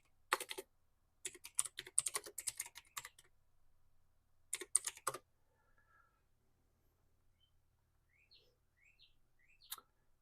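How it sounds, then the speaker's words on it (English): Clicky computer keyboard typing in two quick bursts, close and crisp, followed by near silence with faint bird chirps in the background. "we're going to just type something out."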